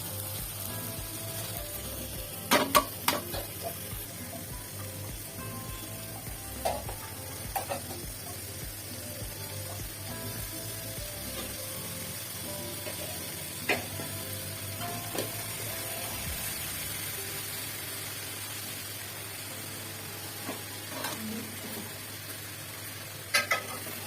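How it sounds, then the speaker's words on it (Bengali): Beef tripe stirred and frying in a pan, a steady soft sizzle running throughout with occasional scraping clicks of the spoon against the pan; close and alone, no talk. "ভালো করে নেড়ে চেড়ে ডেকে দিব"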